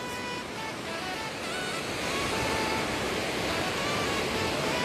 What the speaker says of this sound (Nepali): यहाँ तलबाट खोला खोलाइरहेको छ